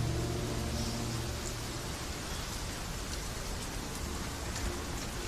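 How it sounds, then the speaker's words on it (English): Steady, broadband rain falls in a Witcher 3: Wild Hunt game world, a soft continuous hiss with no voices. "Looks like rain."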